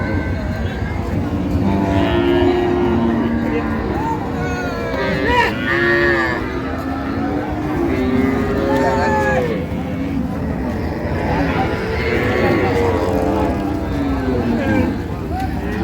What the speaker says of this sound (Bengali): গাভী বাসুর দেখছেন